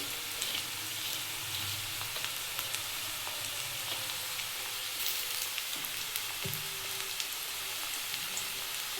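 Onions fried red in a pan with ginger and garlic paste just added, for a red chicken curry, give a steady, close sizzle with faint crackles and an occasional stir and no talk.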